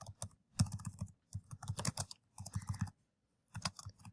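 Quick bursts of typing on a computer keyboard, close and clear, with dense key clicks separated by brief pauses and no talking.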